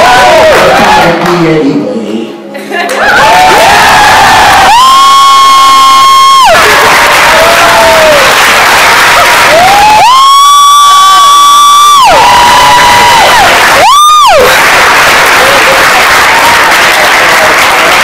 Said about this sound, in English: Let's give him a quick another applause.